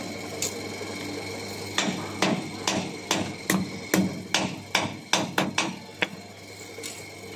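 Repeated hammer blows on metal in a welding workshop, a steady series of sharp, ringing strikes of moderate loudness, preceded by quieter ambient noise and with no talk.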